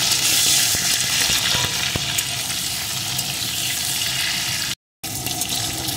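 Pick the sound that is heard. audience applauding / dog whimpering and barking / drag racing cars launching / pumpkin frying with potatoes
pumpkin frying with potatoes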